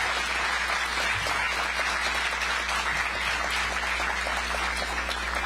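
A crowd at a Georgia Tech campaign rally for Sen. Warnock applauds steadily, a dense, even patter of many hands that continues without a break for several seconds.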